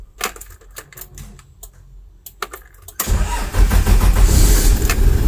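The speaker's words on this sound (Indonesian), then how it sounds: "Ya, mari kita dengarkan suara mesinnya." A 1984 Toyota Land Cruiser hardtop's 1B 3000cc engine cranks with a rapid clattering starter, then catches and settles into a loud, steady rumbling idle, recorded close with no one talking.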